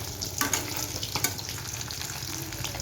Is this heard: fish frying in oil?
yes